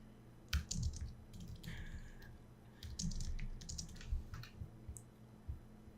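Someone types on a computer keyboard, tapping out a short phrase: soft, irregular clicks in small bursts over a quiet room hum.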